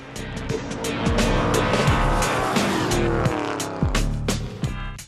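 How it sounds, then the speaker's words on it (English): Loud, roaring American V8 drag racing car engines revving hard, with repeated throttle bursts and a brief tire squeal, close and continuous throughout. "quarter-mile races are dominated by American automobiles with serious power output, raging 8-cylinder engines"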